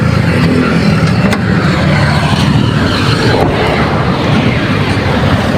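Steady roar of road traffic, with car and engine noise continuous and loud throughout, like vehicles passing close by without pause.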